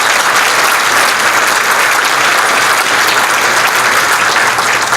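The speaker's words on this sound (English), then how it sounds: "I want to give a big welcome, round of applause from us to Mr." An audience applauds to welcome Dick Wilkerson at a forum, loud dense clapping that stays steady and close for the whole stretch, with no voices over it.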